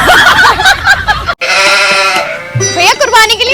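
A male goat offered for sale for Qurbani bleats in wavering cries, heard close alongside people talking.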